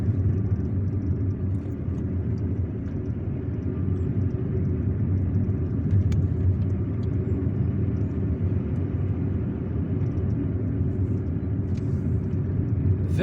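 A car creeps at about 20 km/h up a very steep road in Algiers, its engine a steady, close, low rumble that holds throughout with no break and no voices.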